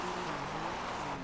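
A BMW police car in GTA 5 with a British police mod slides under handbrake, its engine droning steadily at moderate volume with faint tire scrub, no talk over it.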